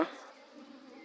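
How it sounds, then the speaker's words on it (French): African bees buzzing close by, a thin droning hum after a brief knock at the start, faint and steady with no talk. "voilà une abeille sur ma main"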